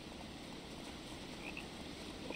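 A frog croaks faintly in a wildlife video game, a low, soft call over a steady hiss of ambient game sound, with no one speaking.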